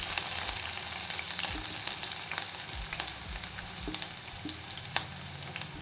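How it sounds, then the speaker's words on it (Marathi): Chopped capsicum (green bell pepper) sizzling steadily in a hot pan with oil, with soft scraping and stirring taps from a spatula over the constant frying hiss. "असं छान फिरवून घेऊ।"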